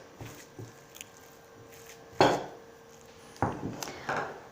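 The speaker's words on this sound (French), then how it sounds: "sardines qui sont écrasées à la fourchette. On mélange un petit peu." Sardines being mashed and mixed with a fork in a bowl, giving a few soft scraping clinks and squishy taps, with two louder clattering strokes near the end, close and alone.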